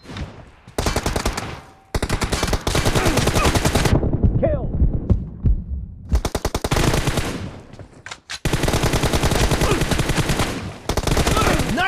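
Rapid automatic gunfire in the mobile battle royale game BGMI, loud dense bursts of rattling shots with a short pause midway, then sustained firing resumes to the end.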